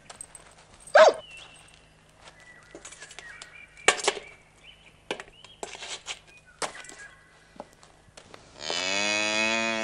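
A cow on a village road moos in a long, loud, close call near the end, after scattered shorter sounds and faint background noises.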